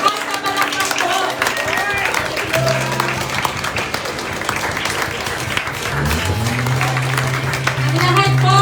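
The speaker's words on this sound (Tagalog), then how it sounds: "Malakas na palakpak po!" A church congregation applauds loudly and steadily throughout a worship service, with music and sustained tones layered underneath the clapping.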